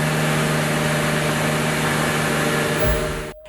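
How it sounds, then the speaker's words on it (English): A Gordon Murray T.50's naturally aspirated 3.9-liter V12 running loud and steady with a strong tonal hum, then cutting off abruptly near the end. "at the heart of that car will be a high-revving, naturally aspirated V12"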